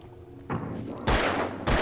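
Gunfire shooting at cans in Alan Wake, three loud booming shots in quick succession, each with a long noisy tail, close and with no talk.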